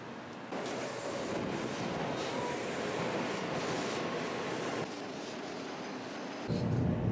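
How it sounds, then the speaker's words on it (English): A high-speed bullet train leaving Tokyo rushes along with a steady, loud roar of rolling wheels and rushing air, heard from onboard, the tone shifting briefly near the end. "We are right now on a bullet train from Tokyo"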